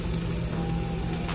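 Metal left inside a microwave sparks and fizzes, a crackling, sizzling hiss heard close and steady for a moment against the oven's low hum.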